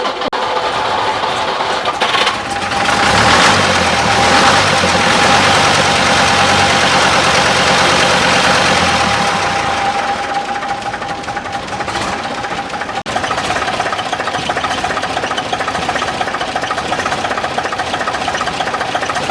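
A Gardner diesel engine in a restored 1972 tour bus fires up on a cold morning and settles into a loud, steady, slightly knocking idle with a faint high whine.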